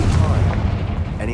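A Confringo fire spell blasts in Hogwarts Legacy, a loud, booming burst of game combat audio with rumbling low end and layered impact noise, over brief speech.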